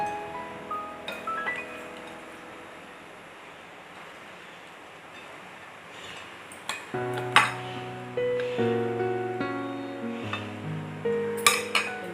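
Crispy poha bhel made from flattened rice is served into a dish. Metal utensils clink and tap in a quick series of bright chimes and rattles after a quiet, hissy stretch.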